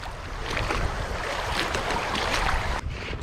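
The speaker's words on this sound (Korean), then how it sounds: "물소리 난다 앞에서" Water rushes steadily in a continuous, moderately loud wash with a windy texture, heard from a short way off with no talk over it.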